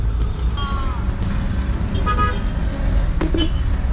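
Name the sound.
car horns honking in traffic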